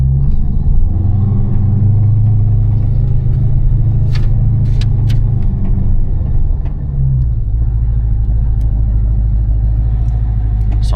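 A lowered 5.7 Dodge Charger with twin turbos drives along, its engine giving a steady, deep, loud rumble heard from inside the car, with a faint clink or two over the drone.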